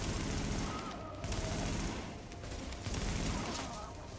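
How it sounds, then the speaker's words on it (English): Bursts of automatic gunfire in the video game Tom Clancy's The Division, dense rapid shots filling the clip with steady loudness, mechanical clatter underneath and faint voices. "So, that shooting, that was you, right?"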